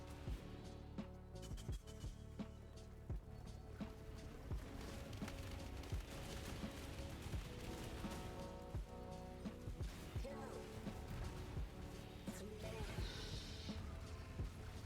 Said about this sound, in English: The explosions are so chunky on this build.